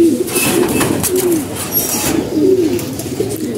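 A female pigeon coos in repeated low, throaty rolls, loud and close, with no talk over it.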